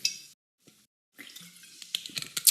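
Water poured into a drinking glass comes in short, close bursts separated by brief silences, with a trickling, splashing sound and some light clinks near the end.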